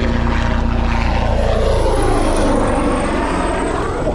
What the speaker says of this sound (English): Freaking helicopter just went over our heads